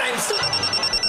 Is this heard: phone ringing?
yes